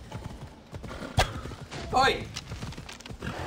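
Hooves clip-clop from a horse in Assassin's Creed Odyssey, a quick uneven run of thuds under a short shouted call from a man.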